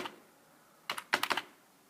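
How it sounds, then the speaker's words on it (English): Commands typed on a computer keyboard into a terminal, a short quiet pause followed by a quick close cluster of about six clicking keystrokes. "All of these commands I'm typing in terminal"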